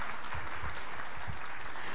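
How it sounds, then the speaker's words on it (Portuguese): An indoor audience applauding a city councillor at a civic talk, a dense, even patter of many hands clapping at moderate volume through the short stretch. "Pode aplaudir o nosso vereador"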